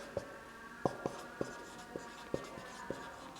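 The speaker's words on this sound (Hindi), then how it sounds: "तो हम लोग यहाँ पर लिख देते हैं पोजीशन ऑफ इमेज" Chalk or marker on a classroom board during a physics lesson gives a series of light, irregular taps and short scratchy strokes over quiet room tone, with no talking.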